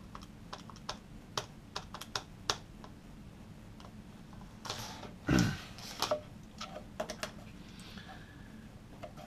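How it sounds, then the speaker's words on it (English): Quick, light plastic key taps punch numbers into a calculator, about a dozen irregular clicks spread across several seconds with a brief rustle midway, close and fairly quiet with no talking. "typing that into the machine"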